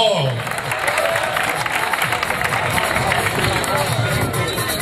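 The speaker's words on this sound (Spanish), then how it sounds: "Un aplauso a este tío, hombre, por favor." A crowd at a tuning car meet's prize ceremony applauds steadily, dense continuous clapping mixed with the babble of voices all the way through.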